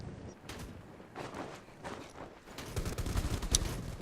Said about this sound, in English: Hwang Han in a firefight.